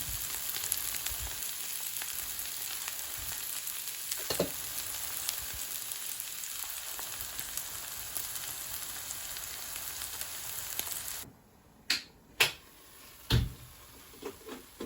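Satin fish cooks with leafy greens in a pan, giving a steady sizzling hiss for about eleven seconds before it drops away, followed by a few sharp knocks and clinks.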